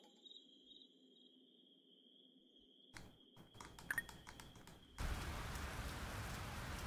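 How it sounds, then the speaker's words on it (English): Rain in the farming sim game Fields of Mistria starts abruptly as a dense, steady hiss after a quiet stretch of chirping insects and scattered clicks, with no thunder clap standing out. "Ooh, rain sound. But it's not just rain sound, it's thunderstorm."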